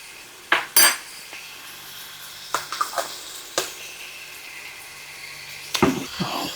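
A metal spoon scrapes and clinks against a jar and pot as garlic in olive oil is scooped out and dropped in, several sharp, close clinks spaced out over a quiet background.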